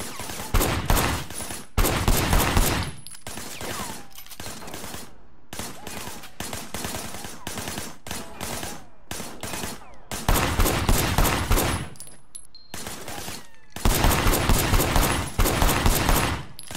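Gunfire from blind firing in the video game Sleeping Dogs: loud bursts of rapid shots in several long volleys, separated by shorter quieter stretches of scattered shots and game effects.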